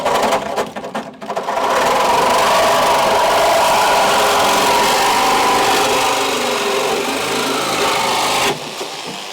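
A reciprocating saw cuts through sheet metal on the body of a Dodge Charger crew cab under restoration, a loud, continuous buzzing rasp that runs steadily for several seconds before cutting off abruptly near the end.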